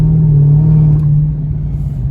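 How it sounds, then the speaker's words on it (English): Dodge Charger SRT Hellcat on the move, heard from inside as a loud, steady low engine drone and road rumble that eases slightly toward the end; no talking. "but I just wanted to drive it because I never drove a Hellcat."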